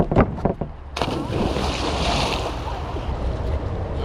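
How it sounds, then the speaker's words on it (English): A swimmer splashes into open water during a triathlon swim, a few sharp close splashes followed by a steady rush of churning water and wind. "let's have a nice little splash in"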